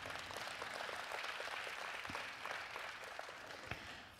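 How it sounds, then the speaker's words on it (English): Church congregation clapping their hands for the Lord at the end of a prayer session, a steady, fairly faint wash of applause that holds evenly throughout with no talk. "Give the Lord a big hand clap."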